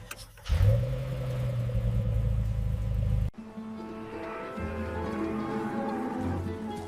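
An engine on Joe's long-built car roars to life and holds a loud low rev, then cuts to a smoother, quieter tone as the car pulls away and cruises, close up with no talking.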